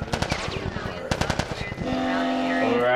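Machine-gun fire in The Last of Us on PS4, with quick rhythmic bursts of loud shots in the first half that give way to a steadier mix of game sound.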